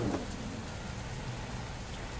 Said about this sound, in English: Oh gosh, guys, rain start to fall, you know?